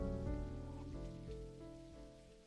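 Rain falls steadily outside in the video game Necrobarista, a continuous wash of patter under a layer of music, with no voices.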